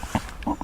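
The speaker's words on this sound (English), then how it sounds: "I apologize about the daggum dogs barking everywhere" Dogs bark in a few short, close bursts during a brief outdoor moment beside a fishing kayak.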